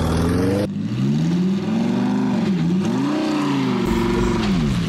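A truck drives in a video game, its engine note loud and continuous, with pitch rising and falling through revs and gear changes, heard close without talk.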